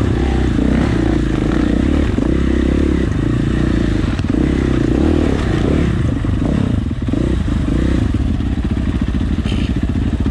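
A dirt bike climbs a rocky canyon trail, its engine buzzing loud and close with rising and falling revs, while gravel clatters and scrapes under the tires throughout.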